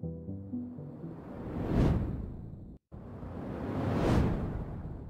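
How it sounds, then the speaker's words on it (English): Two separate whooshes, each rising to a peak and fading, split by a brief silence; the first opens over a short tonal chime. "I need a shorter whoosh for the text reveal"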